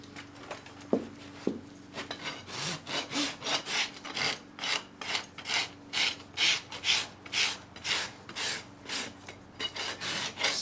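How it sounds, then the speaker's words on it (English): A farrier rasps an eventing horse's hoof flat, producing close, rhythmic rough scraping strokes, about two per second, after a few light taps at the start. "Now let's rasp it flat."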